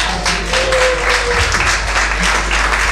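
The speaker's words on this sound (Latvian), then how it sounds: "Ovācijas!" An audience gives an ovation at an album release event, with dense, steady applause throughout and a faint tone briefly audible in the mix.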